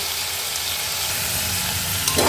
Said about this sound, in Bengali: এবার সবটা খুব সুন্দর করে নাড়িয়ে নিলাম